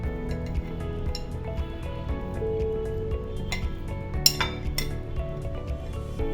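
Shredded chicken, cucumber and carrot go into a bowl for a chicken sandwich, with scattered metallic clinks of a spoon against the dish and soft squishes, close and fairly quiet.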